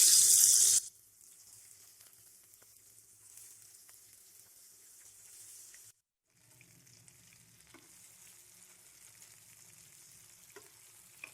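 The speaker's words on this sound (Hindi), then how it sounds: "हम इनको शैलो फ्राई करेंगे, डीप फ्राई नहीं करेंगे। ऑयल हमारा अच्छे से गर्म हो गया।" Potato kababs shallow frying in hot oil on low to medium heat, a brief loud sizzle at the start settling into a quiet, steady crackle with faint stirring and handling sounds.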